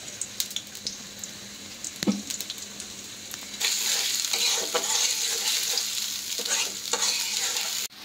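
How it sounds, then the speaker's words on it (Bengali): Chopped onion and green chili drop into hot oil in a pan. A loud, sustained sizzle bursts up partway through, with stirring scrapes over it, and no one talks. "তেল গরম হয়ে গেছে, এখন আমি দিয়ে দিচ্ছি পেঁয়াজ আর কাঁচামরিচ কুচি"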